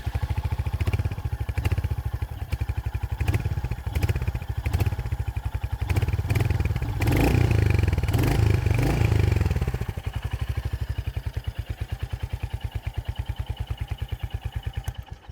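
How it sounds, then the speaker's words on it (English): Royal Enfield Hunter or TVS Ronin motorcycle running with a deep, throaty, bassy exhaust beat, a steady loud thumping idle that swells in a rev midway before settling back, close to the bike with no talk. "this motorcycle feels bassier and would be more satisfying for those of you who want that deep, bassy, throaty kind of an exhaust"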